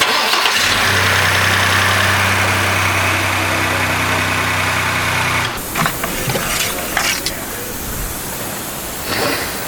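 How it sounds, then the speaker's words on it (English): A 2024 Ford Explorer ST engine cranks and fires, settling into a loud steady idle with a strong low rumble, then a sudden shift to quieter rustling and handling noises near the car. "Start it up."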